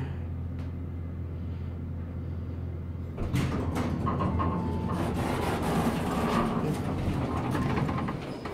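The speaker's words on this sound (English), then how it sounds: "It's definitely the only elevator in the Minneapolis area with a three-speed door." An Otis hydraulic elevator's three-speed door at the Minneapolis airport baggage claim slides with a steady mechanical rumble. A low hum comes first, then a clatter as the door starts, and a sustained grinding roll runs to the end.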